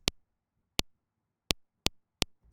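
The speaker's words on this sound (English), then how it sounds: "So it's this very loud click that peaks way above 0 dB." Five very loud, sharp trigger clicks used in audio production, each a sudden broadband snap, spaced unevenly about half a second apart over near silence.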